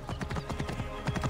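Horse hooves clip-clop in quick, even steps in Assassin's Creed Origins, fairly soft and close, in a brief stretch of riding.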